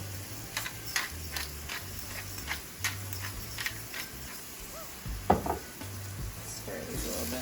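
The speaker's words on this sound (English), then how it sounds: "Stir these a little bit more." Food simmering in a pan is stirred, with soft sizzling under a series of light scraping and tapping strokes from a utensil, one slightly louder clack near the end.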